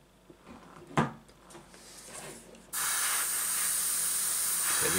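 An airbrush blows a steady loud hiss of air onto paint on a King Tiger model to speed drying, starting abruptly after a few faint handling knocks and continuing close and constant.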